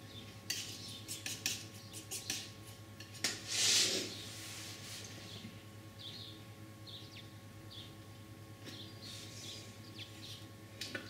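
A palette knife scrapes and taps against a palette while mixing oil paint, with intermittent close, light clicks and smears spread across a quiet room tone, plus a louder scraping swipe midway.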